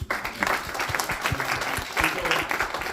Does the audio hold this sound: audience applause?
yes